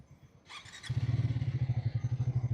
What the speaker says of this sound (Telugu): ఒకసారి ఇగ్నిషన్ అనేది ఆన్ చేసుకొని మీకు ఎగ్జాస్ట్ నోట్ అనేది వినిపిస్తాను నేను.